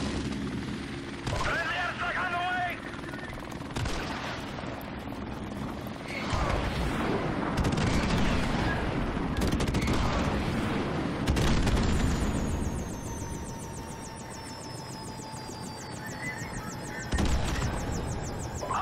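A helicopter crashes amid gunfire in Call of Duty: Modern Warfare Remastered, a dense wash of rotor rumble, explosions and shots with sharp bursts and a long falling whine near the end.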